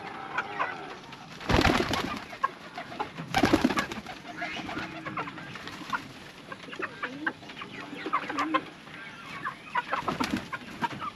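Pigeons coo and flutter close by, with sharp wing-flapping bursts among soft, repeated calls and other chicken-like clucks in the background.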